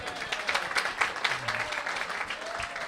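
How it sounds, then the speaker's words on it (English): A comedy show audience gives a short round of applause, scattered clapping of moderate loudness that stays fairly even, with a faint murmur of voices underneath. "Give him applause."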